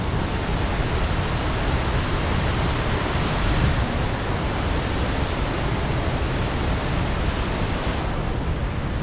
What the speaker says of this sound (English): Check out those falls.